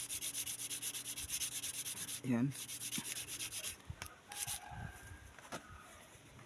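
Steady rhythmic rasping of a file scraping along metal edges, close and continuous, broken by a brief squeak and a few knocks near the end.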